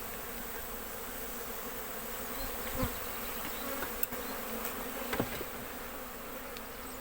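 Honey bees buzz steadily around an open hive during a frame inspection, a dense continuous drone with a few individual bees passing close by.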